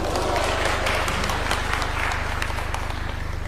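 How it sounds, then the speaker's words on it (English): Applause from an audience after a speech at a formal event, with a steady burst of clapping over a low, constant hum, and crowd noise throughout. "Another round of applause."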